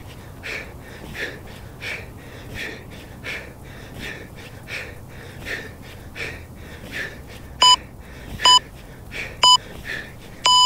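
A workout interval timer gives four sharp electronic beeps about a second apart near the end, preceded by steady rhythmic heavy breathing during a kettlebell session.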